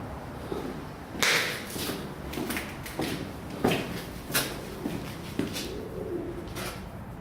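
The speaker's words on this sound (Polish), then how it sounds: "Słyszę panów gołębiów gdzieś na górze." Pigeons in the upper reaches of an abandoned stadium, with soft flutters and taps echoing through the empty space over a low, steady ambience; faint cooing is suggested but not clearly distinct, with no talk.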